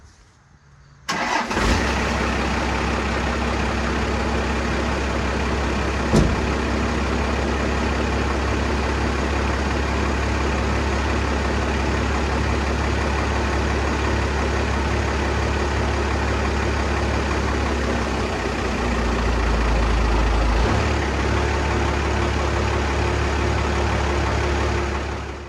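A 12-valve Dodge W350 truck, seized and left sitting for a decade, cranks and fires, then its diesel runs at a loud steady idle close by, with a sharp knock midway and a slight rise as it creeps forward.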